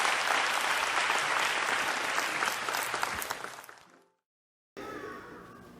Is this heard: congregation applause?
yes